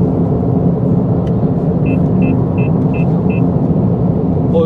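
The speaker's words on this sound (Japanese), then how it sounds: "今車が来て、" Steady road rumble from a moving car as another vehicle approaches to overtake, with five evenly spaced short electronic alert beeps from a MAXWIN MDR-A002 mirror dashcam in the middle.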